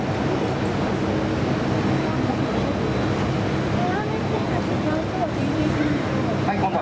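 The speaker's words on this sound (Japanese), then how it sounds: "エンジン着火しました。 これからアイドル回転まで徐々に上がっていきます。" Kawasaki T-400 jet engine at a ground taxi training display, spooling up toward idle after ignition: a loud, steady broadband roar with faint rising whine tones building through the second half.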